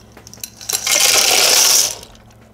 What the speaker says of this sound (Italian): Aggiungere la pasta